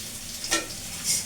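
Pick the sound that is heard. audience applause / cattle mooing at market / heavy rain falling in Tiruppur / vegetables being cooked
vegetables being cooked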